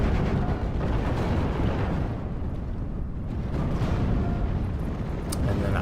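Artillery and naval high-explosive shelling in the WWII strategy video game Steel Division 44: a dense, continuous rumble of distant blasts and bursts that stays loud throughout, with no speech.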